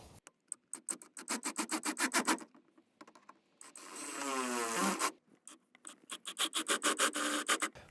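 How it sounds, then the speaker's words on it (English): Bolts are tightened underneath a Chevrolet Silverado pickup truck: close, sharp bursts of rapid ratchet-like clicking, broken by a short whirring rasp in the middle, with no speech. "Now I'm just going to tighten everything down."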